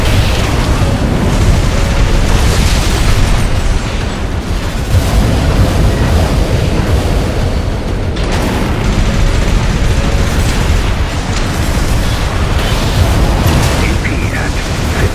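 A barrage of missile explosions in Armored Core 6 PvP arena combat. Loud, dense blasts and bursts rumble almost without a break, with a voice talking underneath.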